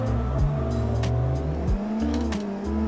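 In a racing sim game, a car drifts with a clutch kick, its engine revving and dropping in sharp shifts while tires squeal continuously, loud and close throughout.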